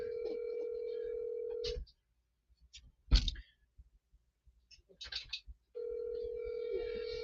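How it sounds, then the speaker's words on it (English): A telephone ringback tone on an outgoing call sounds as two long, steady purring rings with a silent gap between them, alone and fairly clear, with a few faint clicks and bumps in the pause. "Come on, Kevin, pick up the phone"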